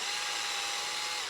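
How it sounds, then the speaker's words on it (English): Power drill fitted with a 3/8 adapter spinning a socket on a 1936 Ford Fordor, a steady high whirring motor whine held close up for a short burst, with no talking. "Got the 3/8 adapter on the end of the drill so that I can, instead of run my ratchet like I showed you the other time"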